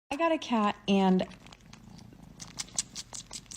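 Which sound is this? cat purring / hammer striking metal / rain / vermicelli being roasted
cat purring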